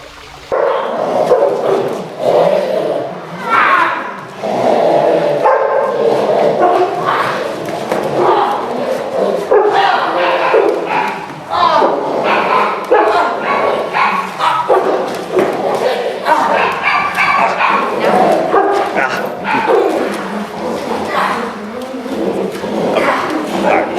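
A dog in protection training barks and growls in rapid, aggressive bursts, loud and close, under constant shouting and talking from people nearby.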